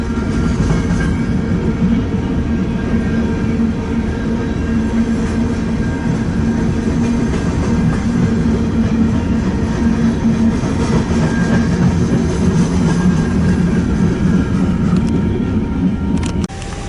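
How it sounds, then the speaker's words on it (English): A southbound BNSF freight train rumbles across the Union Pacific diamond crossing, a steady, close, continuous rolling roar that holds for the whole stretch, with no talking. "And that is BNSF south across the diamond here."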